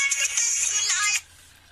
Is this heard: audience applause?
no